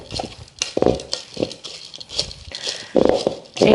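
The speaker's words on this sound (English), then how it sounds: "Stir it all up. Mix it all together." Broccoli salad with seeds being stirred and mixed in a bowl, a series of uneven scraping, clinking strokes of a utensil close by with no talk.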